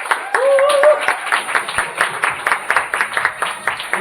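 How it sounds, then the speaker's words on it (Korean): An audience at a company rally claps to welcome a speaker to the stage, with distinct, fairly close individual claps in an uneven rhythm and a voice heard briefly at the start. "우리 최총희 강사님을 박수로 모시도록 하겠습니다"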